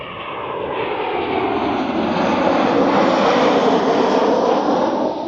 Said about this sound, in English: Planes come right above you,